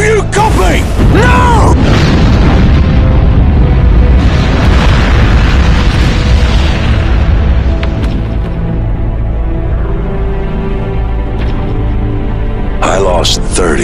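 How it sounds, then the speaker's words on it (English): Nuclear missile detonation in Call of Duty Mobile, a loud sustained booming roar with deep rumble that fills the whole stretch, with voices shouting over it and a sharp burst near the end. "We have a nuclear missile launch! Missile in the air!"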